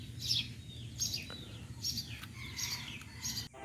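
Pigeons call in a loft of black Lahori and Siraji cross-breed birds, the male Lahori among them: repeated short calls at fairly regular intervals over a low steady background hum.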